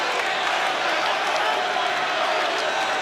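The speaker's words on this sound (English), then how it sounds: "The crowd really baying here." A boxing crowd at a world-level title fight bays and cheers in a dense, continuous roar, a loud, unbroken wall of arena noise that holds steady throughout.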